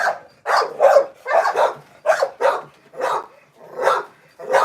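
Dogs barking in quick repeated bursts, close and loud, about nine barks in under five seconds with an agitated, steady rhythm.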